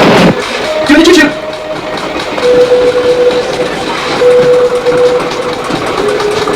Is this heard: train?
yes